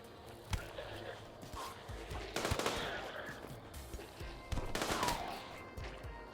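Gunfire in the Rimworld video game: several sharp shots and short bursts ring out at irregular intervals over a low background, with quiet speech underneath.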